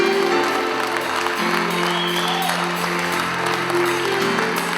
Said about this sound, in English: How about a round of applause for Dwayne Brooks and Dennis Brooks?